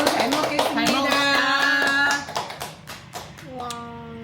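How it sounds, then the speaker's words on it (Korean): A small family group claps their hands while gimbap is being made on a December trip to Jeju. Sharp, close claps come in a quick cluster, mixed with a voice and talking. "우리 준비해 주신 분들을 위해서 박수."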